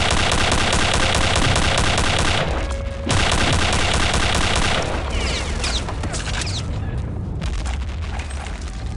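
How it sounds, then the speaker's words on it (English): Heavy enemy gunfire in Return to Castle Wolfenstein pours in as a dense, continuous barrage of rapid shots and booming blasts, loud and close throughout with only a brief lull. "Every weapon in the game is shooting at me, dude."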